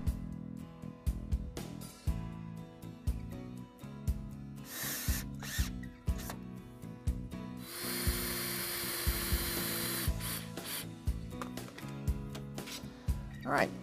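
A power driver sends screws into Southern pine 2x4 joints of a potting table, in several short whirring bursts with one longer drive, interspersed with clicks and knocks, close by.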